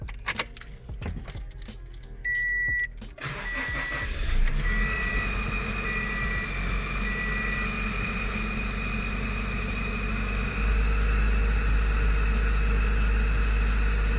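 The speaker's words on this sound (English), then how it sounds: "I'm gonna go ahead and start this car with basically all stock exhaust" Keys jingle, then a car engine with a stock exhaust system cranks and catches, settling into a steady idle with a low exhaust rumble that grows slightly louder toward the end.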